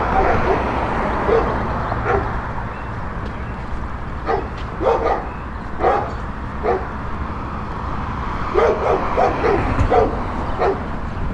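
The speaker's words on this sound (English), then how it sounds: "There's some dogs barking over there." Dogs barking at a distance outdoors, scattered yips and barks in irregular clusters over steady background noise, with a person talking nearby.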